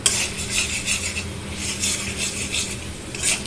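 Cabbage curry is mixed with spices in a metal pan, a utensil rasping and scraping continuously across the surface in close, rhythmic strokes with a faint sizzle beneath.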